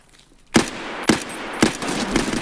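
Four sharp gunshots from Escape from Tarkov ring out at roughly half-second intervals, each loud and close, with a trailing echo of ambient game noise between them.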